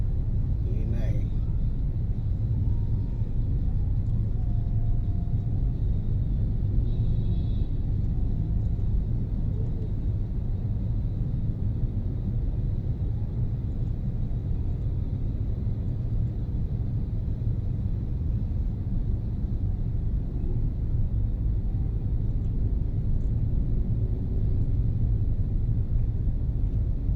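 Heavy city road traffic on the route from PITX to C5 in Metro Manila rumbles as a steady, dense low drone throughout, with no breaks or distinct passing vehicles standing out.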